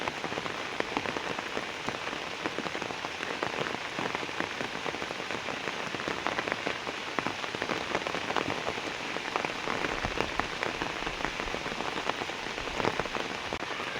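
Heavy rain pours down steadily and close, a dense continuous hiss of drops striking surfaces around a village pond, with no voices over the full stretch.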